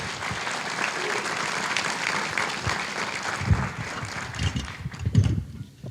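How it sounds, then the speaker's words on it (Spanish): A church congregation applauds during a sermon, with steady, moderately loud clapping, some shouts and voices rising through it, and a few louder bursts near the end. "Denle un fuerte aplauso a Dios."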